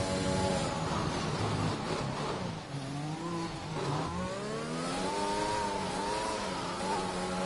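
Formula 1 car engine from F1 2021 on a flying lap at the China round, a loud high-pitched whine rising and falling through gear changes and acceleration, heard from onboard.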